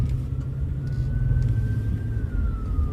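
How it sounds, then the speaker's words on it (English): An ambulance siren wails faintly in a long, slowly rising and falling tone, nearly buried under the heavy engine and traffic rumble of a car cruising the Las Vegas Strip. "I hear sirens."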